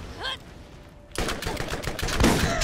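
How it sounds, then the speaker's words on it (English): Rapid bursts of video game gunfire from Borderlands, a dense, loud volley that kicks in abruptly after a short quiet stretch and keeps going to the end, with a brief vocal sound early on. "You're shooting me!"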